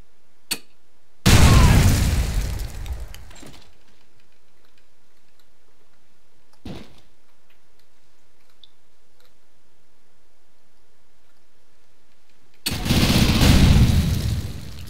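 Explosion in a first-person shooter video game: a short pop, then a loud roaring blast lasting a couple of seconds, a small thud mid-way, and a second big blast near the end, with near silence between.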